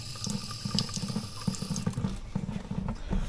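A garden hose sprays water onto bonsai soil, a steady splashing and gurgling stream with small irregular pulses, close and continuous with no talking.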